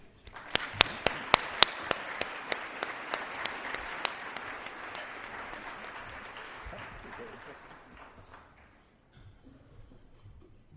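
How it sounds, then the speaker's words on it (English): An audience at a keynote lunch applauds after an introduction, opening with a few sharp, distinct claps that swell into a steady round, then thin out and fade to near silence. "give a warm round of applause to Mr."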